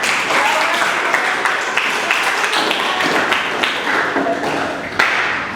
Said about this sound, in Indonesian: Kita berikan aplaus kepada kelompok 5 yang telah mendapatkan